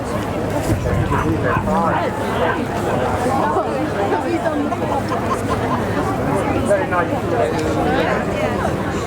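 Gun dogs bark and yip repeatedly at a country fair, Buckham Fair, mixed into a busy crowd murmur with a voice speaking over a public address throughout.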